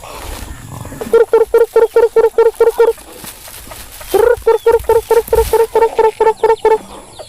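Backyard chickens fed black soldier fly larvae and squash give off loud repeated clucking calls in two rapid bursts of about a dozen pulses each, near and dominant over faint background voices.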